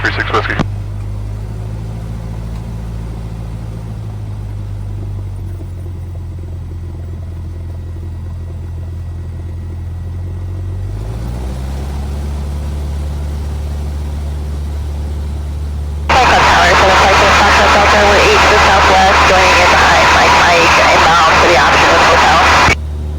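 A Cessna 172R's piston engine drones steadily in the cockpit, then its pitch climbs as power comes up for the takeoff roll on a Class D airport runway. Later a loud, harsh wash of radio noise or voices rides over the engine.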